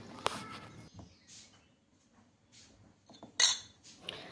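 A lid comes off a container of soaked sabudana (sago pearls) in a quiet kitchen, with a few soft clinks and one sharper plastic or metal clack near the end.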